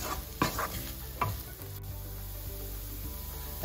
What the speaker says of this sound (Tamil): நான் வெங்காயம் மிளகாய் எல்லாம் போட்டு அஞ்சு நிமிஷமாக வதக்கி கொண்டிருக்கிறேன்